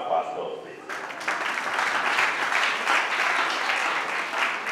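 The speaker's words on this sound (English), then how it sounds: "Let's clap for the couple." Guests at a Togolese wedding clap for the couple, a dense burst of many hands that starts after a moment of talk and continues steadily, with voices mixed in.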